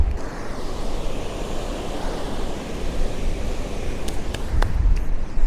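Ocean waves wash onto wet sand on a beach in a steady, broad roar with a slight swell toward the end, alone and fairly loud.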